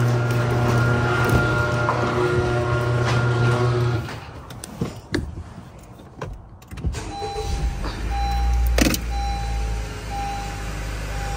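An interior car cabin hums with a low engine and road drone, then quiets briefly before a power window whirs and the steady rumble of driving returns.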